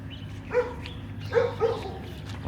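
A dog barks three times outdoors, short close woofs spaced unevenly over a steady low background rumble.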